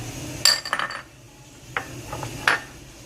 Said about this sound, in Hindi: अब सभी चीज़ों को बारी बारी एक बाउल में डालिए और मिक्स कर लीजिए